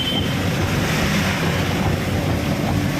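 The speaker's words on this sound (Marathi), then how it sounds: "बघा पाऊस कसं पडायला भलतंच" Heavy rain pours over Nagpur city as a steady, loud, unbroken wash of noise with a low rumble beneath and no pauses.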